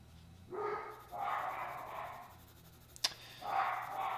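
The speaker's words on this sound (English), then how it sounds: "I truly apologize for the dogs barking if they are driving you folks crazy" Dogs bark indoors in several separate outbursts spread over a few seconds, each a short cluster of barks at moderate distance, with a sharp click between them and steady low room hum underneath.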